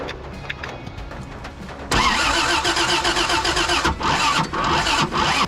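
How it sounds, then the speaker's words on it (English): A 1987 Toyota FJ60 Land Cruiser, sitting for about 20 years and primed with starting fluid, cranks for a couple of seconds, then loudly catches and runs rough and close up. "I'm gonna throw some starting fluid down there and see if this truck does something for the first time in who knows how long."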